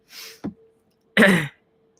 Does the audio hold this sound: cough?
yes